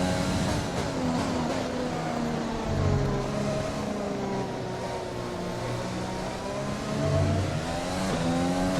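An F1 car engine in the racing game F1 2020, its throttle feathered on corner exits, whines steadily at close range with gentle rises and dips in pitch and repeated light surges of revving.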